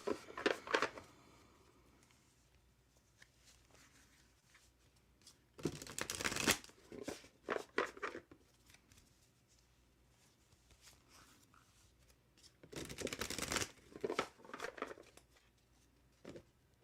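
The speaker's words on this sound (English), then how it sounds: "Melissa, gonna shuffle and pull a card for you." Tarot cards shuffled by hand: three short, papery bursts of riffling, one at the start and two longer ones later, close and soft, separated by quiet pauses.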